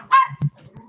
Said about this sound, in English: so the dogs barking don't bother you